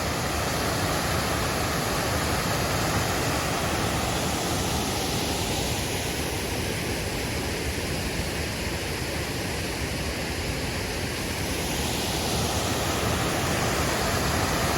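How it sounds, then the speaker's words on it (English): Dismal Falls, a waterfall on the Appalachian Trail, roars as a steady, dense broadband wash of falling water, loud and close, constant for the whole stretch with no voices over it. "This is called Dismal Falls."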